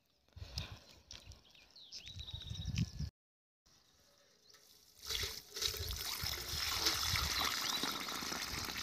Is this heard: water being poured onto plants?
yes